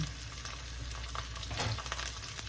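Garlic and ginger sautéing in a pan for ginataang hipon, a close, busy frying sizzle with crackles and spatula stirring, no voice over it.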